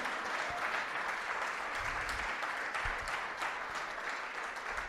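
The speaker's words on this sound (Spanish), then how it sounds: "Fuertes aplausos a Él." Church congregation applauding during an Easter Sunday service, a steady, dense wash of clapping that fills the whole stretch without a break.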